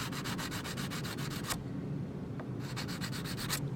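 Guitar frets on a Jay Turser hollowbody are rubbed with a coarse abrasive in quick, rhythmic back-and-forth scrubbing strokes, close and steady, pausing for about a second before the strokes resume.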